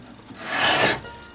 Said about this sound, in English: with a chisel, I'm just basically scraping out a little bit more